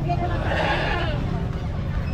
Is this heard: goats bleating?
yes